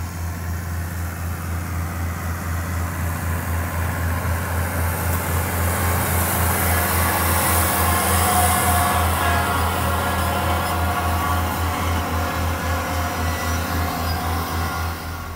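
Tractor engine running steadily while mowing hay, a continuous close diesel drone with a regular low throb, no talking.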